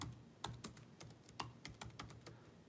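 Keys clatter on a computer keyboard as a search is typed in, a quick irregular run of sharp, close clicks with no talking.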